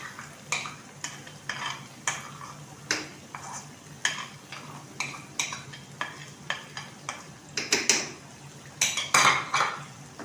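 Boiled, ground spinach and mutton frying in a pot, with rhythmic metal spoon scrapes and clanks against the pot every half second or so over a soft sizzle, close up, growing busier toward the end.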